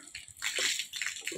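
Water gushes from a leaking 2-inch pipe being fitted with a saddle clamp, a close, hissing spray that surges and splashes in short uneven bursts.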